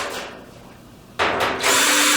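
A power drill whirs up in two short bursts, then runs steadily at high speed, loud and close, removing quarter-inch screws from a dryer's back panel.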